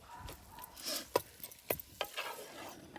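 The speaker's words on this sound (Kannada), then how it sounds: "ಈಗ ಮಟನ್ ಚೆನ್ನಾಗಿ ಫ್ರೈ ಆಗಬೇಕು" Mutton cooking in masala in a pan outdoors, with scattered stirring and scraping knocks over a faint, low sizzle, fairly quiet and close.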